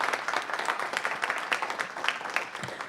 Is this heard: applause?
yes